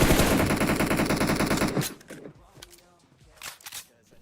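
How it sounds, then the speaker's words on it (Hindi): Automatic gunfire from PUBG Mobile rattles in a dense, loud rapid burst for nearly two seconds, then gives way to scattered quieter in-game shots and clatter. "और यहाँ से गोली चलाएंगे"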